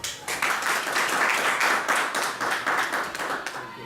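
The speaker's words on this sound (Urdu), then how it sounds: "اس کاوش کو سراہنے کے لیے راجہ شفیق صاحب کے لیے بھرپور تالیاں" An audience at an Urdu poetry gathering in Barcelona claps steadily, a dense, close burst of applause with no talk.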